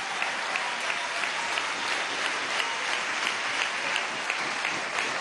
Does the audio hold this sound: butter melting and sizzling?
no